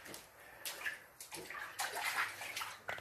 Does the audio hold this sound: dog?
no